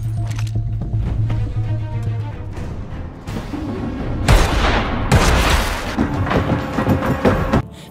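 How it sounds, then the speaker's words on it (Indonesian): Gunfire from an action film about a cartel attacking a retired gangster farmer, several loud shots and bursts over a dense, rumbling film soundtrack, with the heaviest blasts coming in the second half. "ia mengambil pistol terdekat dan menembak Lazarus hingga jatuh dari jendela"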